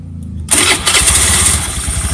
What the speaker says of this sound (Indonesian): Kontak on, starter nyalakan.